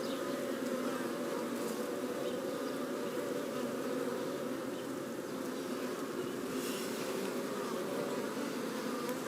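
Honey bees in a top bar hive hum and buzz continuously during an inspection, a dense, steady drone close by with no voices.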